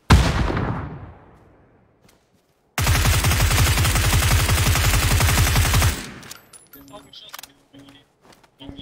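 Rapid automatic gunfire in a video game, a loud, dense three-second burst of shots following a single decaying blast, with scattered faint game sounds afterward.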